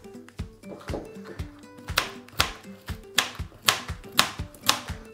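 Knife chopping the ends off a washed, unpeeled carrot on a cutting board, a run of sharp, close, fairly regular knocks.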